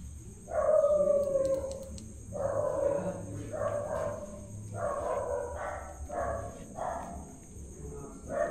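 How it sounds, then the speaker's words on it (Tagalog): A dog barks and howls in repeated drawn-out bursts at a moderate distance, with steady insect-like chirring running underneath. "May aso."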